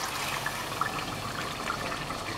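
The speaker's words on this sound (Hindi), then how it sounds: "दाल डाल दी हमने, इसके अंदर पानी भी था वो डाल दिया इसके अंदर" Soaked chana dal and its soaking water poured into browned meat in a dhaba-style cooking pot, a continuous wet splashing and gurgling pour with small sloshes, moderately loud and steady.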